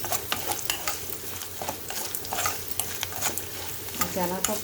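A tempering for curd rice fries in oil while a spatula stirs it in the pan, rapid close scraping strokes over a steady crackling sizzle, without any speech.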